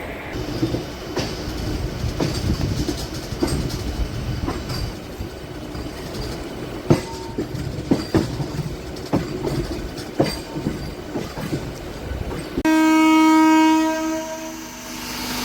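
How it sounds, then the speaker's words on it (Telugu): A MEMU passenger train leaving Rajahmundry rumbles and clatters over the rails with wheel squeal as it brakes hard, then a sustained horn-like tone sounds near the end, loud and close from on board. "కసక్కన ఆపేశారు, బ్రేక్ టెస్టింగ్ అనుకుంటా"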